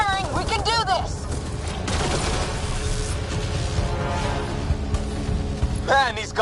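Sustained gunfire and battle noise in Mass Effect: Andromeda, with volleys of shots running continuously while voices shout and speak over the fight.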